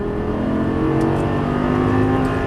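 A Lamborghini Gallardo LP550-2 accelerates on a Las Vegas racetrack, its engine holding a loud, continuous, rising drone with steady harmonic tones and no voices.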